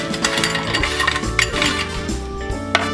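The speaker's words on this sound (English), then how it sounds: "And then they put the ice in there and they stir it all up" Ice cubes clinking and rattling against a glass as a caipirinha with sugar is stirred, a busy run of bright chinks and knocks, close and steady with no talking.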